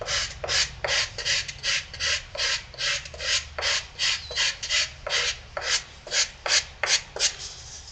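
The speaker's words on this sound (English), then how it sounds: "This is a nice little sanding tool." A handheld 120-grit sanding tool rasps across tooling board in rhythmic back-and-forth strokes, about two to three per second, close and clear with no talking.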